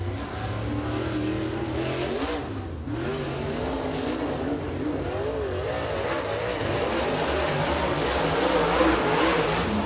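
Super late model race car running at Eriez Speedway during qualifying, its engine droning loud and steady throughout, swelling slightly as it revs and passes, with no talk over it.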